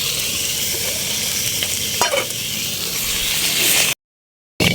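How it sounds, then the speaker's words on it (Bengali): Bori, small lentil dumplings, frying in hot oil, giving a loud steady sizzle and hiss with occasional stirring scrapes, close up, then a brief cut to silence before the frying resumes. "তো আমার বড়িগুলো ভেজে নিলাম"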